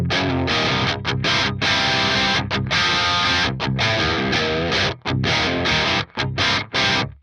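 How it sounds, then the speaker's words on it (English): An electric guitar through an Axe-Fx III Mesa Mark amp model plays loud, heavily distorted palm-muted riffs and chords, with rhythmic chugs and brief sharp stops near the end. "we've got a pretty inspiring guitar sound"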